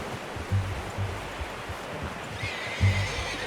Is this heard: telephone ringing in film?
no